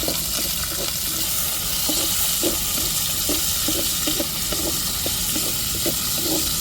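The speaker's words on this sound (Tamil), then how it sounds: "சின்ன வெங்காயத்தை சேர்த்துக்கிடுவோம் வெங்காயம் நல்லா வதங்கட்டுங்க" Chopped small shallots sautéing and sizzling in a pan, with a steady hiss of frying and intermittent stirring clicks throughout, close and continuous with no talking.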